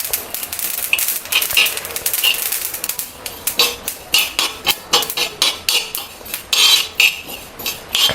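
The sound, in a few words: sesame seeds roasting and popping in a hot pan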